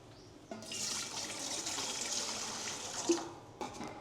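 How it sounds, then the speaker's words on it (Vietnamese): Water poured into a cooking pot, about a liter, a steady hissing splash of running liquid that starts abruptly, continues for a few seconds, then stops, followed by a light knock. "Mình sẽ cho vào nồi 1 lít nước."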